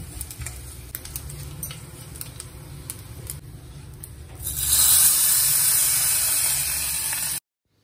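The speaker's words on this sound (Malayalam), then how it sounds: "തേങ്ങ ഏകദേശം മൂത്ത് തുടങ്ങിയിട്ടോ" Grated coconut roasts in a hot pan, with a soft crackling patter that turns into a louder, steady sizzling hiss partway through and then stops abruptly.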